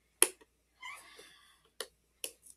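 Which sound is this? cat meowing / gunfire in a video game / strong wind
cat meowing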